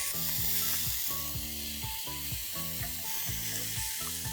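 Prawn tikka grilling on a hot tawa after flipping, producing a soft steady sizzle layered under a rhythmic low droning hum that pulses roughly every half second.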